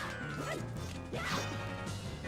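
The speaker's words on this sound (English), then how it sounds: "The dog race is another heart piece." Dogs yip and bark in quick bursts during the dog race in the video game Zelda: Majora's Mask, with the barks set over steady, loud game music.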